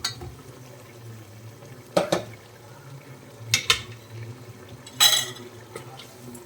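A spoon scrapes and clanks against a pan while cooked duck is stirred into simmering Kottayam-style curry gravy, with three sharp metallic knocks over a quiet bubbling background.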